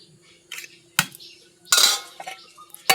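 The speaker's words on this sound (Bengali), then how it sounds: "আবারও ঢাকাটা দিয়ে বসিয়ে দিলাম ভাতটা হোক" A metal lid set back onto a pot of cooking rice: sharp clanks and clinks in short separate bursts against a quiet background with a faint hum.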